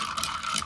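An iced chai protein drink is stirred in a cup over ice, giving a short, close rattling whir that lasts under a second with no talking.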